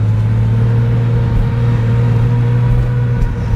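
A supercharged Porsche 997 engine, bored out from 3.6 to 4.1 litres and fitted with a Vortech supercharger, drones as a loud, steady low hum with no clear rise or fall in pitch.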